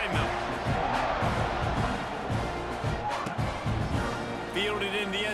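A stadium crowd roars steadily in College Football 26 as the teams line up for a kickoff, a continuous wash of cheering and murmur under a commentator's voice.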